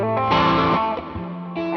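Distorted electric guitar through a wah-wah effect, sustained notes sweeping in tone with a chorus-like shimmer, a few changing chords in quick succession, loud and close with no voices.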